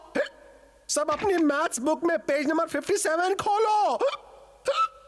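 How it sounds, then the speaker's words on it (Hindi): A cartoon teacher hiccups between quick, lively lines of animated Hindi speech in a classroom scene, the brief spasms tucked under and between the talking. "सर को हिचकी की बीमारी हो गई है।"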